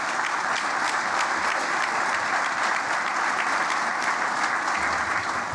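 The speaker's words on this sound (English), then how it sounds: "They need a round of applause." A large audience at an apprentice competition tribute applauds the coordinators and instructors, a dense, steady wash of clapping that stays loud and unbroken throughout.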